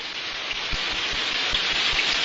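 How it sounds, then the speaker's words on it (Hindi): Steady, dense rain falls outside in an anime scene, a continuous loud hiss of drops on surfaces with no break. "बाहर बारिश हो रही है, अब मजा आएगा।"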